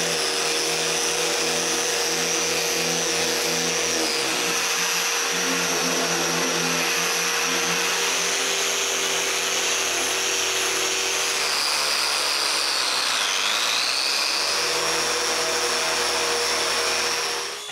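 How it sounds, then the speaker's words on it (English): A power sander runs continuously on the wooden sides of a cremation urn, a loud, steady whirring drone with slight shifts in pitch as pressure changes, close by and without talk. "I need to sand all of this really smooth"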